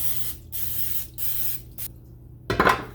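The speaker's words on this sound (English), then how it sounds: "spray your muffin tin so nothing sticks" Several short hissing bursts of cooking spray hit a muffin tin, each a few tenths of a second long with brief pauses between. A louder clattering rustle follows at the end.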